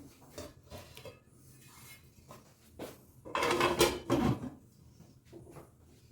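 Metal clatter of a lid set onto a cooking pot of steam-frying chicken, with a few clinks and knocks around the middle, loudest in a short burst before fading to quiet kitchen background.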